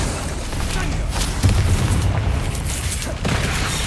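The Confringo spell blasts in Hogwarts Legacy, heard as heavy booming bursts over continuous game noise, with a voice present.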